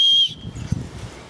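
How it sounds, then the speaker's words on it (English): A sharp, loud, high-pitched blast from the safety whistle on an Osprey Talon 11 backpack, blown once outdoors in a backyard, cutting off after a fraction of a second into quiet rustling. "And you do have a whistle on there, which is really cool that you have that. And I guess I'll blow it,"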